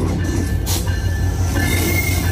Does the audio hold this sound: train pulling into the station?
yes